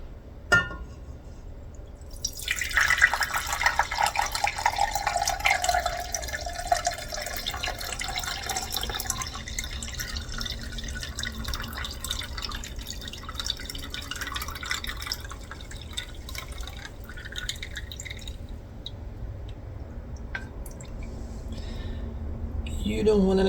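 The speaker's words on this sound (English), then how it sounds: "I'm going to use a fine mesh strainer to pour over" Coffee trickles and splashes steadily for a long stretch, poured through a fine mesh strainer, with a person talking over it throughout.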